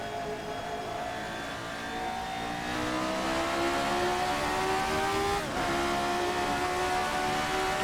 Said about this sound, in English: speaking of the engine, it's a wonderful engine. It's a very linear engine.